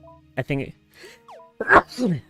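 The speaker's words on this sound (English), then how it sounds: "I started to sneeze there." A single sharp sneeze bursts out partway through, set among short bits of a voice and electronic game tones and sweeps.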